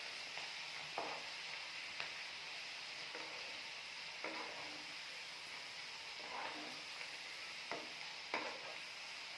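Green gram fries in hot oil over low heat, giving a steady, soft sizzle with faint intermittent scrapes of stirring and no talking.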